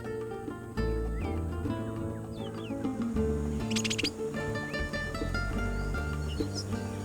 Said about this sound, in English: just here in this area, a huge amount of wading birds, egrets, herons, storks, chahas